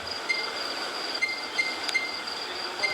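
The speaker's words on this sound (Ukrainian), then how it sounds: "Це я буду їхати в кабіні потяга." Train ridden from inside the driver's cab, a steady mechanical rumble and hiss with faint periodic clicks and a few brief squeals, no talking.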